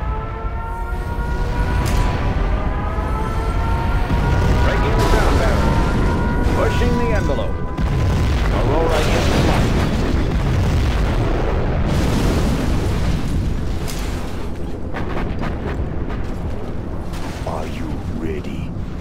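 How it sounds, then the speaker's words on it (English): A nuclear missile launch and detonation in the real-time strategy game Command & Conquer Generals Zero Hour, with loud sustained rumbling, mechanical noise and booming blasts throughout, mixed with game voice announcements. "We have launched our nuclear missile."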